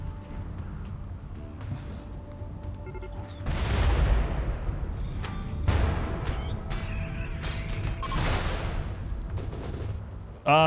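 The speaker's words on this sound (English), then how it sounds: "Oh, the explosions are going off right now." Doomsday rockets cooking off and exploding as they burn in the RimWorld video game, heard as a loud run of booming blasts and crackling bursts, with heavy detonations around four, six and eight seconds.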